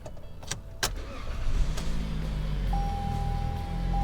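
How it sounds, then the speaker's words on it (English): A 2020 Toyota Corolla LE with CVT is started by push button, a few clicks followed by a soft engine catch and a quiet, steady idle close by. "Start this Corolla up."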